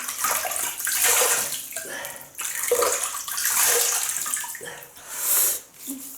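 Water splashes repeatedly as a face is wetted before shaving, a run of close, hissy bursts of running and cupped water with short pauses between them.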